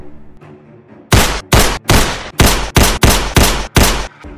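PUBG video game gunfire: after a brief quiet stretch, about eight loud, close bursts of shots follow one another in quick succession, each separated by a short gap.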